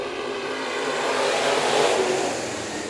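Mixed mod race cars roar off the start of an eight-lap dirt track heat race at Kern County Raceway, a dense, loud engine drone swelling in the middle and easing slightly, with no talking.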